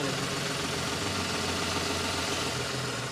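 Small petrol car engine, in the class of an Alto or Wagon R, idles steadily at close range with a continuous, even hum and a faint rhythmic knock, alone without talk.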